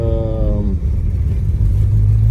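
A 1971 Dodge Charger sits at a steady idle after a short early pitch sweep, its low rumble smooth and continuous at close range, with no talking over it.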